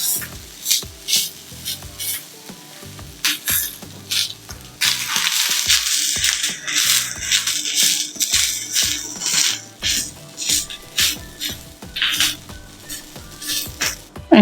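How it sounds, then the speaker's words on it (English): Grated coconut fries in a pan on a low flame, sizzling softly while a spatula stirs and scrapes in a repeated rhythm, close and clear with no talk. "Now I'm going to fry this until the coconut has got a nice golden brown color"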